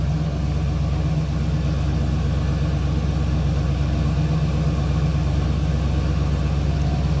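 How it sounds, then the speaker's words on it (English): A 1972 Oldsmobile Cutlass Supreme with an Olds 350 V8 idles steadily up close, a deep, even low-frequency rumble with a smooth rhythmic burble that holds constant throughout. "Nothing over the top, just nice sounding Olds 350."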